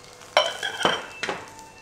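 Egg frying in a pan while bibimbap is prepared in a home kitchen: a few sharp sizzling bursts and scrapes from stirring, close and moderately loud, with no talk.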